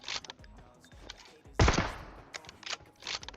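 Gunfire in the PUBG Mobile battle royale game: several bursts of rapid automatic shots, with one loud close burst in the middle and quicker bursts before and after.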